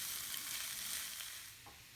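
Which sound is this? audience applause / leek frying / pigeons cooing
leek frying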